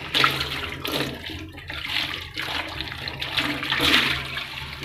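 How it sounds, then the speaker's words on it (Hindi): Dirty water with grit and sand from washed poppy seeds is poured out of a bowl, and the bowl is rinsed: a loud, close, rushing splash of running water that swells and fades. "इसको अब मैं गिरा दूँगी और बाउल को अच्छी तरह से धो लूँगी।"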